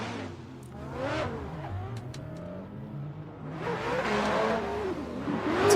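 Race car engines rev and whine in a drift racing video game, rising and falling pitch sweeps with bursts of acceleration and tire noise, loud and continuous with no talk over it.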